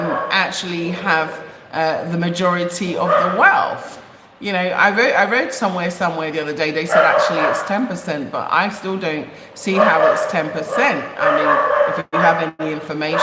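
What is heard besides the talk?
dog barking in the background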